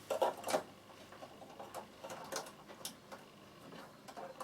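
A Bernina sewing machine stitches a peak cap seam in short, quiet bursts of rapid mechanical ticking, alone and close, with pauses between runs.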